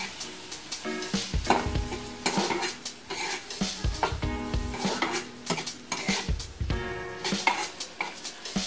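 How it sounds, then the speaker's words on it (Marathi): Spicy masala with fresh grated coconut stir-fried in a pan for a jackfruit vegetable dish, with a steady close sizzle, repeated scraping and stirring of a utensil against the pan and light metallic clinks, and no talk. "आपला तिखट मसाला घेऊन त्याला व्यवस्थित परतायला"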